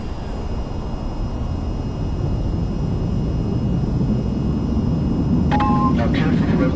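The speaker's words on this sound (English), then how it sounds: "To take off, raise the throttle to full and steer to keep aligned with the runway" In the VTOL VR flight game, an aircraft engine rumbles loudly and steadily as the throttle goes to full for the takeoff roll, its roar building slightly, with a few brief electronic tones near the end.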